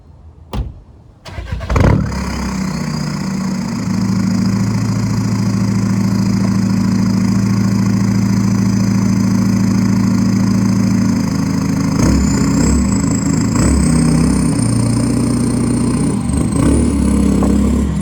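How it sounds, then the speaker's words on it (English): A car engine starts with a short crank, then settles into a loud, steady idle close by as the car is backed up onto a lift, with a continuous low hum and a thin whine rising near the end. "I'm gonna back the car up and we're gonna get that done"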